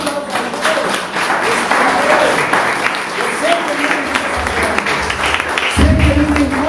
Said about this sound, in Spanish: Dale esa aplauso a ustedes.